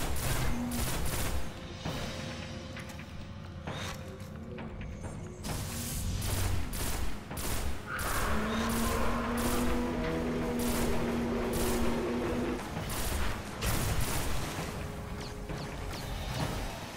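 Gunfire in Destiny's King's Fall raid against Gogoroth: rapid bursts of weapon shots and mechanical clatter crackle continuously over a dense game soundscape, loud and near.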